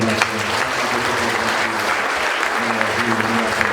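A church congregation claps steadily and loudly throughout, a full crowd applause with a voice faintly audible beneath it.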